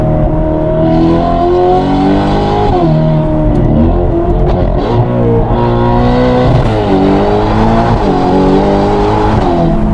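A front-engined convertible car is driven hard, its engine revving loudly and continuously with rising and falling pitch through gear changes, close and with no talk.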